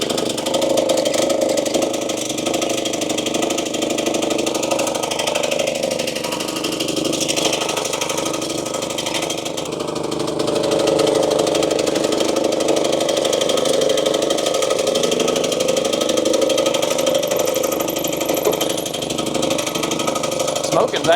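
A RedMax CZT54X zero-turn mower engine runs steadily at a moderate distance, a continuous droning hum with slight rises and dips, while people talk over it.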